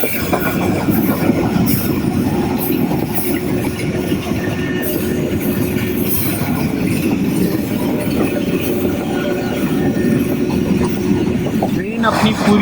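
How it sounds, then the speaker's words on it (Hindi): A passenger train runs at full speed through a village near Peshawar in the evening, a loud, steady rolling roar with rattling carriages and faint wheel screeches, continuous throughout and ending in a brief squeal. "ट्रेन अपनी पूरी रफ्तार के साथ बढ़ती हुई आपको दिखाई दे रही है।"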